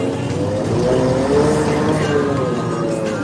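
A combine harvester engine runs in a field in a steady, loud, continuous drone with a throbbing low rumble that stays constant throughout.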